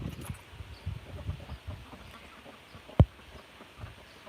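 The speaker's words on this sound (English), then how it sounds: "We are just having a little walk around the chicken yard, making sure everybody's good." Chickens in a farm chicken yard in rural South Dakota cluck softly and fairly distantly in a low, scattered murmur, with one sharp close knock near the middle.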